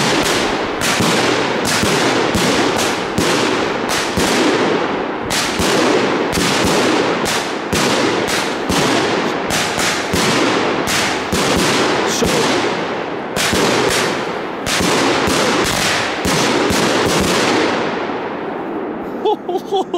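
A long, rapid barrage of loud firecrackers bursting close by, dense cracks and bangs overlapping for about twenty seconds before thinning out at the end.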